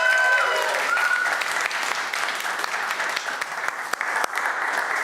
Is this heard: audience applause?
yes